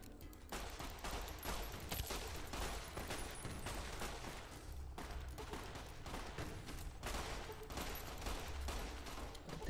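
Rapid weapon fire in the video game Fallout New Vegas, sustained bursts of shots crackling continuously with brief pauses, steady and fairly loud with no talking.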